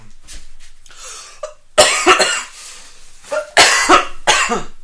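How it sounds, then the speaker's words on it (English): Harsh, close coughing comes in repeated bursts: a few light coughs first, then several loud, hacking fits in quick succession. "He's coughing and it's really funny."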